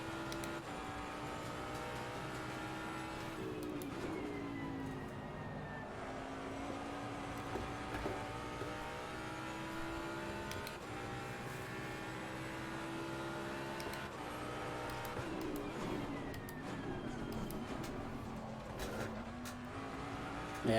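Jaguar race car in Assetto Corsa Competizione, its engine droning steadily close up with rising and falling pitch as it shifts through gears, continuous and loud throughout with no talking.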